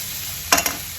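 Onions and spices such as salt, chilli powder and coriander powder stirred in a pan for potato paratha filling, one brief scraping stir with a light sizzle over a steady background hiss.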